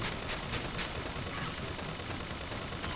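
Rapid, continuous gunfire from a video game, with a dense fusillade of shots running steadily throughout at constant loudness, with periodic sharper bursts and no talking.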